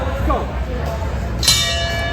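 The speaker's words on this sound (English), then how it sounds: "And the bell." A wrestling ring bell rings once at the start of a match at a live CCW show, a bright clang that lingers under an announcer's voice.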